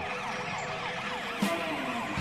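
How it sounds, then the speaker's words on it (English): Police car siren from a car patrol game app, a loud wailing electronic siren sweeping up and down steadily throughout, with a brief thump partway through. "Turn on your siren and rush to the stadium."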